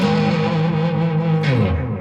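A Blackstar HT-20 Mk II tube combo amp with 12AX7 valves pushes thick, sustained distorted electric guitar chords, loud and dense with rich overtones and a touch of echo, played alone without talk.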